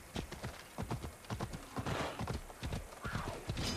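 Horse hooves pound the hill country while riding in Assassin's Creed Odyssey, a loud, close, rapid clip-clop rhythm of a galloping horse.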